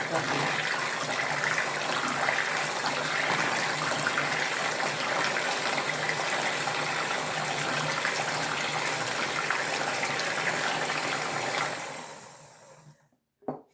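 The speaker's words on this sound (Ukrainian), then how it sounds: "додаю літру кислого молока. Можна додавати літру кефіру. І також все разом збиваємо." Sour milk is poured into a batter of eggs and margarine and whisked together, a steady loud whirring mix that carries on for about twelve seconds before stopping abruptly.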